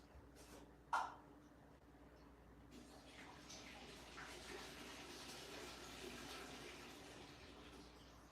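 Dirty water from two settling bins, used in rock slab work, is poured into an apartment sink; a faint rushing, gurgling pour runs steadily after a brief knock, quiet throughout.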